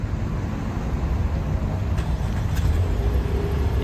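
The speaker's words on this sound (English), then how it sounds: "To remote start the Altima, lock it once and hold down the button" Nissan Altima, 2022 Midnight trim, idling after a remote start, a steady low engine rumble heard outdoors with no speech.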